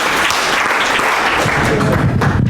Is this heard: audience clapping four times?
yes